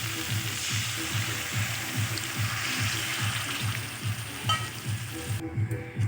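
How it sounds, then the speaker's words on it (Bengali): Steady close sizzling of masala frying in a pan as a little water is added for a Bengali rui fish curry, with a sustained hiss and faint stirring, no talk. "এবার আমি এতে অল্প জল অ্যাড করে দিচ্ছি।"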